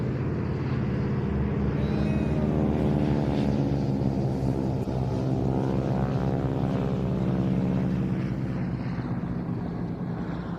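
A propeller aircraft from an aerobatic wing walking display team flies past at an air show, its engine drone swelling and shifting in pitch as it passes, loud and steady throughout with no talking.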